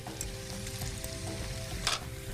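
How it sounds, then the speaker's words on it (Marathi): Jackfruit pieces go into a hot frying pan for a Maharashtrian jackfruit bhaji, giving a steady close sizzle with a brief louder burst of crackling near the end, with no talk. "आता याच्यामध्ये आपल्याला फणसाचे गरे घालायचे"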